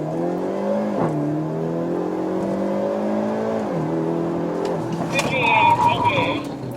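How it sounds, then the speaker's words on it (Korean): A Hyundai Elantra N on launch control holds a steady, loud engine drone at high revs with the brake pressed, then its pitch dips and shifts before a brief burst of harsher noise as it launches. "브레이크를 끝까지 밟은 상태에서 악셀을 갑자기 밟아줍니다."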